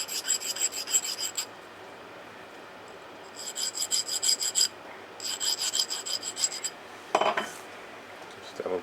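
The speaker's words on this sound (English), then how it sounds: "Right, I'll just deburr that," A file deburrs a small machined crankshaft oiler part for a live-steam traction engine model in three close bursts of quick scratchy rasping strokes, separated by quiet pauses, then a single metallic clunk.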